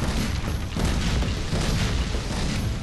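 Pirate master cannon firing in the Skylanders: Spyro's Adventure video game, Pirate Seas chapter: a loud, sustained rumbling boom with dense low-end energy and steady blast texture throughout, no talk.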